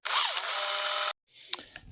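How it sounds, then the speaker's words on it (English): A small drill whirs at close range for about a second, boring a hole in a Mercedes SL rear roof flap cover, winding up and running steadily, then cuts off; faint handling noises follow. "I'm going to drill one here."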